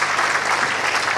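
Audience applause in honour of the Pope, steady dense clapping from a crowd throughout, sustained and fairly loud with no pause.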